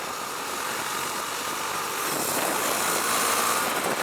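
Husqvarna Svartpilen 401 motorcycle engine revving while riding, a steady broadband roar that swells and grows louder toward the end, heard alone with constant wind rush.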